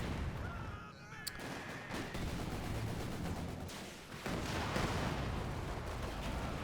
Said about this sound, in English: Did you just try to rocket fire a bunch of infantry?